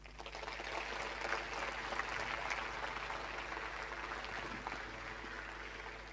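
Applause from a church congregation, a steady wash of many hands clapping at moderate distance, continuous and fairly even throughout.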